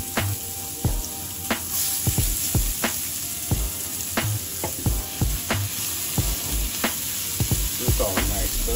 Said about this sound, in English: Some onions to that meat grease.